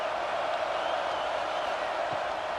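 A high school football stadium crowd, Wharton Wildcats against Sickles Gryphons, roars in a steady broad wash of distant cheering and noise, with a voice talking over it.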